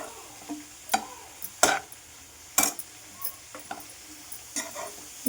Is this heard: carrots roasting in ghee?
yes